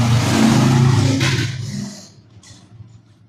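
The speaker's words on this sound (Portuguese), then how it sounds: "Essa moto tá me enchendo o saco aí." A motorcycle roars loudly past outside, strong at first and then fading away over a few seconds, with no talking over it.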